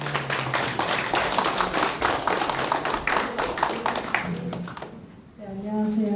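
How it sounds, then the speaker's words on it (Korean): Audience applause at a Konkuk University Truth Forum lecture in Korea, a scattered, fairly loud patter of clapping running most of the clip before fading, with voices heard briefly at the end. "큰 박수 부탁드립니다"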